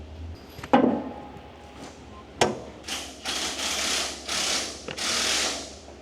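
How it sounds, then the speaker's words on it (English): Mechanical ratcheting and clicking as the brake setting block is released on an original WWII steering brake assembly, with sharp metallic clicks followed by several bursts of ratchet-pawl clatter, close and moderately loud. "Release the brake setting block."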